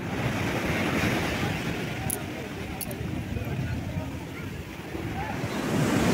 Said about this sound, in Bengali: সমুদ্র ছেড়ে যেন যেতেই ইচ্ছা করছে না